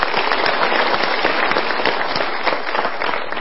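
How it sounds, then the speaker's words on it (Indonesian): A studio audience in a talk-show setting applauds, giving dense, steady clapping that fills the whole stretch. It stays loud and close, with faint crowd noise underneath. "Kita berikan tepuk tangan dulu."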